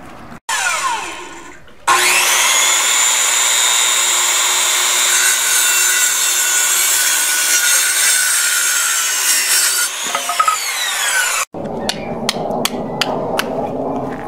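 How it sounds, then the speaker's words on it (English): Wooden stakes are driven into soil with heavy tools, a loud, close scraping and grinding run that breaks into a series of sharp repeated strikes near the end. "So we hammer our stakes in with our sledgehammer here down into the soil."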